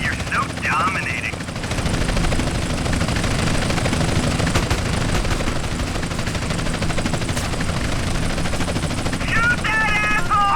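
Gunfire in the video game GTA San Andreas comes as a dense, continuous rattle of automatic shots over a steady helicopter-like drone, with brief chirping game sounds at the start and end.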